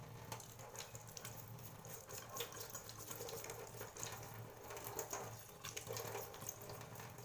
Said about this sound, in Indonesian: Kita bisa gunakan sikat gigi bekas dan juga kita alirkan air di atasnya.